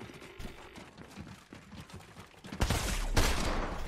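Gunfire in a shooter video game, a faint rattle of scattered shots under background game noise, building into a louder, denser burst of fire toward the end.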